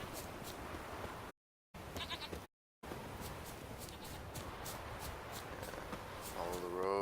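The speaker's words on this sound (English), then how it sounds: "A snow hare and a goat." Goat bleating in Witcher III: Wild Hunt, a few short bleats in a busy game soundscape with brief dropouts, mid-level and continuous.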